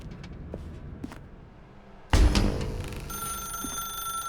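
An old-style telephone bell rings in The Stanley Parable 2 after a few quiet footsteps in a dark room. The ringing starts suddenly, loud and close, then settles into a steady, sustained trill.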